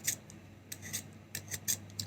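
Soft rasping strokes of a 4B charcoal pencil being sharpened, a series of short scraping bursts in an uneven rhythm, close and fairly quiet with no talk.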